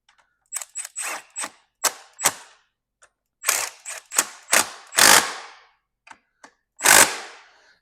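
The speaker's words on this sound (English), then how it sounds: "Yeah, that's torqued it good enough." Sharp clicks and ratchet snaps from a torque wrench tightening 12 mm brake bolts on a dirt bike, about a dozen close, crisp bursts in uneven groups with short silent gaps between them.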